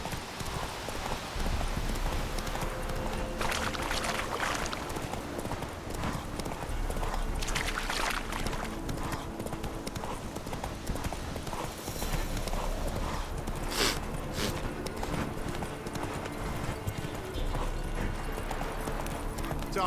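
Horses gallop in a race in the video game The Witcher 3, with a steady drumming of hooves running throughout and an occasional whinny over game ambience.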